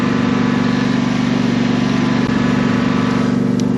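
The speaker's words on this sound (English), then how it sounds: "So I'm just going to give these a very quick mowing over now." A ride-on lawn mower cutting grass verges runs with a steady, close engine drone and a constant mid-pitched hum, with no pauses.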